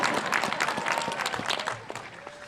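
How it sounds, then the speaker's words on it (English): Commencement audience breaks into applause during a graduation address, a burst of crisp clapping that is loudest at the start and gradually thins out. "Yes, that deserves a round of applause."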